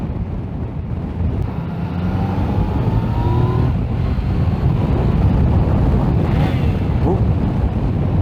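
A 2020 Yamaha Tracer 900 GT is ridden on the road, its engine a loud, steady drone buried in heavy wind rush, with a brief shift in tone as the quick shifter misses a gear.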